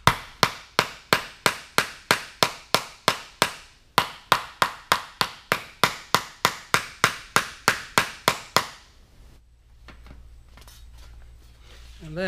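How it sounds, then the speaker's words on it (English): A hammer strikes sheet metal held in a vise during custom cowl recess shaping, giving two bursts of rapid, evenly spaced sharp metallic blows, close and loud, followed by quiet room noise. "Maybe I can reach in there with the hammer and, on the vise."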